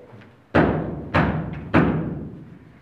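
Three loud knocks on a door by the wolf in a school Christmas play of the wolf and the seven kids, spaced about half a second apart, heavy and close, with no talk.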